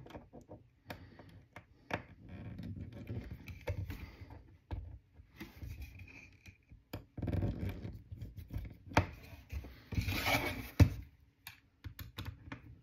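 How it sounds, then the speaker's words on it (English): Tiny screws being backed out with a small Phillips screwdriver during a camera installation, close, quiet clicks and scratchy turning sounds in irregular short bursts, with faint handling noise between them. "the little screwdriver. Probably can't see it, but there's just two little teeny screws here. So I'm gonna pull those out."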